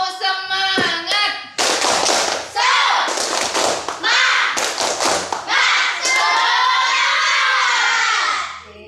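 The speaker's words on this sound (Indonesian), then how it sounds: "Tepuk semangat." Schoolchildren in a classroom perform a rhythmic group clapping chant, loud claps and thumps in patterned bursts with children shouting along in unison, close and energetic.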